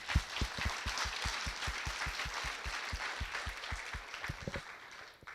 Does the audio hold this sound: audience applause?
yes